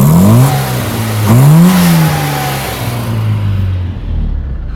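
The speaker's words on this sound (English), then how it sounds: "we'll try and get a sound of the raspy engine note that's exiting through the exhaust" A Mini Cooper engine revs twice, rising sharply each time, with a raspy exhaust note heard close by through an open door. After the revs it settles back into a loud, steady idle hum.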